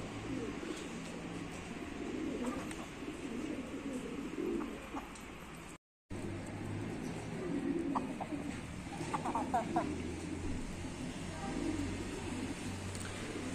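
Soft low cooing of a pigeon repeating at intervals over quiet outdoor ambience, with a few faint chirps from other birds; a brief dropout midway.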